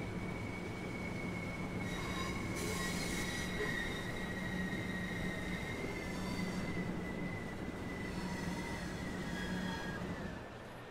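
Class 395 Javelin high-speed train in Train Sim World 2, running with a continuous rumble and high-pitched wheel squeal rising and falling over the track, loud and steady throughout with no talk.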